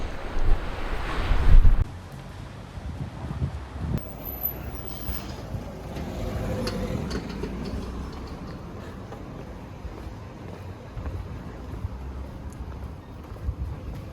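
Steady wind and rain rush and buffet the microphone with a broad roar, like rough weather by the sea, after a brief louder gust at the start, at a beach.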